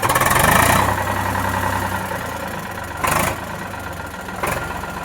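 An Eicher 368 tractor diesel engine idles steadily nearby, a loud, even low throb with a couple of short revs rising above it, no talking.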